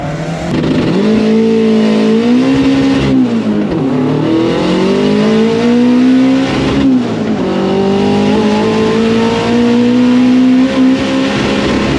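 A loud drag race car engine roars and climbs through rising revs down the strip, briefly dropping between gear changes before accelerating hard again, close and sustained.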